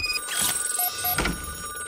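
Telephone ringing in the game RoboCop: Rogue City, two short electronic ring bursts a moment apart, clear and fairly loud over faint background tones, with no speech.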